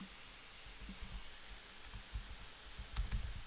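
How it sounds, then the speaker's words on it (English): Keystrokes on a computer keyboard while entering a short word, a few soft, quiet clicks scattered over a faint background hiss, with a slightly louder cluster near the end. "So now I can type the word green."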